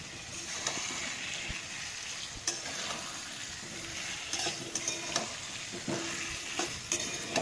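Mixed vegetables with chopped onion and chili fry in a pan as they are stirred, making a soft, steady sizzle broken by brief scrapes and clinks of the spatula, with no talking.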